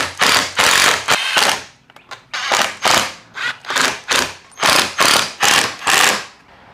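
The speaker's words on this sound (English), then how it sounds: "I have a 10mm wrench and an Allen key. We're just gonna crank these suckers down." A 10mm ratcheting wrench tightening the bolts of a front splitter on a 2022+ Subaru WRX, giving loud rapid ratchet clicking in short repeated bursts, roughly a dozen strokes with brief pauses between them, close up.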